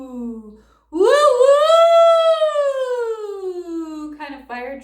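A single voice imitates a fire truck siren, sliding up from a low pitch into a sustained, loud, rising-and-falling wail for several seconds, with short vocal sounds before and after.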